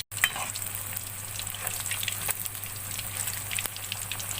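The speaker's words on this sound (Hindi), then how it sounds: "अब हम इसकी दूसरी साइड फ्राई कर लेंगे।" Battered green chili pakoras fry in hot oil in a pan, giving a steady crackling sizzle with scattered pops and a low hum beneath, and no one speaks.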